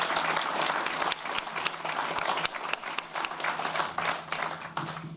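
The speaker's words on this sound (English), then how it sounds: "So can we please give them a round of applause?" A groundbreaking ceremony crowd for a bus rapid transit project applauds steadily, a dense wash of clapping with sharp individual claps throughout, close and loud with no talk over it.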